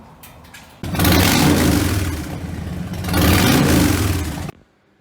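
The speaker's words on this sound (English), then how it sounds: "So what we need to do first is warm up said engine and engine oil and primary oil" A Harley-Davidson Sport Glide motorcycle engine warms up nearby, rising in two strong rev swells over a steady idle before cutting off abruptly.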